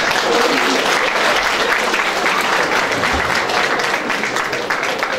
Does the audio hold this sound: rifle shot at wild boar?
no